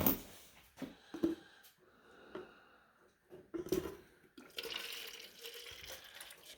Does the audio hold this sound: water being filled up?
yes